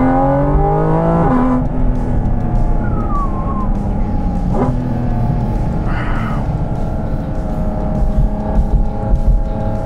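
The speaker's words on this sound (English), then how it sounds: "Just listen to that symphony. Listen to that downshift." A Porsche 718 Cayman GT4 RS engine revs and drops through gears, its tone falling with a sharp blip around the shift, heard close from inside the cabin with steady road and wind noise beneath.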